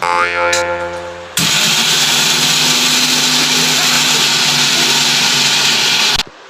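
An electric kitchen grinder whirs loudly, grinding sugar into fine powder: a sharp start, a steady high-pitched motor whine lasting about five seconds, then an abrupt stop, with brief talk beforehand.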